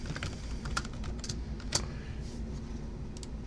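Keys clattering on a computer keyboard as a short thank-you note is typed, quick irregular taps close by, with no voice.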